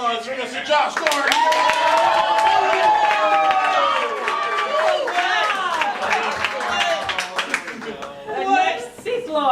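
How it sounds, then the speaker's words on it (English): An improv comedy show audience claps and cheers for a performer named Josh Gordon, a dense burst of applause and whoops that holds for several seconds before thinning out, with voices calling over it. "Make some noise for Mr. Josh Gordon."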